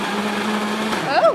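A blender blitzes a sauce made with beef stock, a steady whirring drone running under a voice, then shifting pitch near the end as the blades bite.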